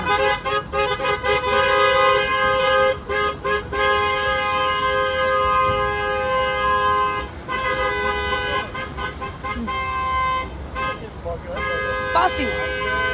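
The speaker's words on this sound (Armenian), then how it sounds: "սիգնալ տվեք ու նկարեք" Loud car horns blare almost nonstop in a motorcade in Washington, several overlapping sustained toots with engine rumble beneath, while people talk and shout nearby.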